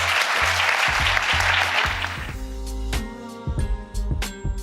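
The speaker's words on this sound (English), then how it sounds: "Please give a big round of applause for our panelists." A live panel audience at SXSW claps warmly for a couple of seconds, then the applause fades out as rhythmic music with a thumping bass line takes over.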